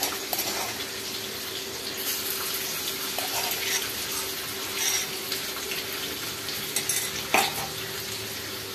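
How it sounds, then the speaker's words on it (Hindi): Ginger garlic paste frying in a pan for stuffed baingan masala, giving a steady soft sizzle throughout with a few brief stirring clinks and scrapes near the pan. "और गोल्डन ब्राउन होने तक हम इसे फ्राई कर लेंगे"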